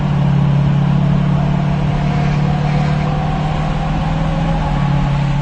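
A Ford Super Duty pickup pulls at quarter throttle, its engine a steady low droning hum with a constant tonal rumble and road noise, heard from inside the cab with no clear gear change.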